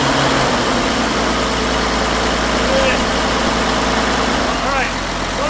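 An old abandoned farm tractor's engine runs at a steady, loud idle with a constant low vibrating drone, and voices speak over it.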